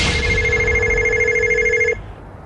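A telephone rings once, a loud, steady electronic trill lasting about two seconds, close by, then cuts off to quiet room tone.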